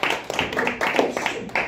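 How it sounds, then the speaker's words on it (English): A brief burst of clapping from the audience at a chef speaker series event, a few quick uneven claps near and close together, over in under two seconds. "Let's give a quick round of applause."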